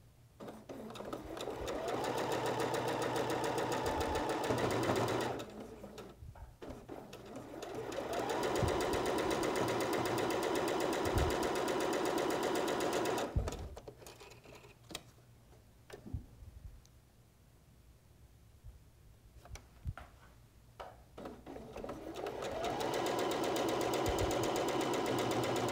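A sewing machine stitches strip-pieced quilt units together in long steady runs, pausing a few times between bursts, with light clicks and handling sounds during the breaks.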